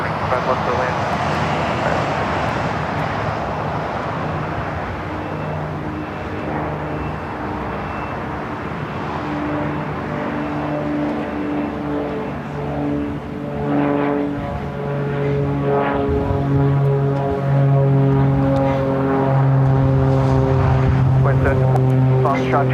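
A passenger airplane near LAX airport drones steadily, its engine roar and whining tones building louder toward the end and lasting throughout, with no talk over it.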